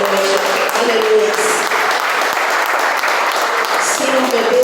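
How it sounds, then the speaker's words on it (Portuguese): A church congregation gives loud, dense, sustained applause during an evening worship service, with a voice speaking over the clapping. "Quem crê nisso pode aplaudir ao Senhor nesta noite."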